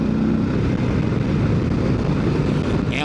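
A 2025 Harley-Davidson CVO Road Glide cruises at Daytona Beach Bike Week, its engine a steady, loud low drone blended with wind rush, with no talking.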